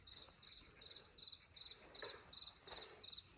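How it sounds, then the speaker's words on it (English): Crickets chirp at night in the Burgundy countryside, a steady high trill pulsing in regular bursts about twice a second, faint and continuous with soft background ambience; frogs are not clearly distinct. "I don't know if you can hear the crickets and the frogs"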